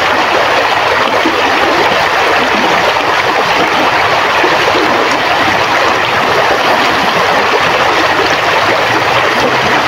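Steady broadband rush of a river stream flowing, heard up close while clothes are washed by hand at the riverbank; continuous and fairly loud, no voices.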